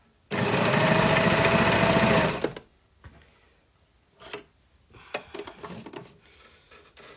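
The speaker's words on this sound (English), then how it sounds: "Who here is afraid of their overlocker? I love mine." Overlocker sewing machine running in a sewing workshop, one close burst of fast buzzing stitching about two seconds long, followed by quiet handling clicks and rustles.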